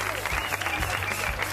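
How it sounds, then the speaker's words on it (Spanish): An audience at a fashion show in a Spanish-language TV drama breaks into brief applause, a dense burst of clapping with voices mixed in. "Ahora quiero pedirles un fuerte aplauso para Sol"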